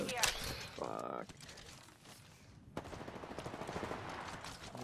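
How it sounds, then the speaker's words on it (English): Gunfire in the Apex Legends video game: sharp bursts of shots, then a rapid stream of automatic fire in the second half, loud and close, with a voice speaking over it. "I am taking fire, friend."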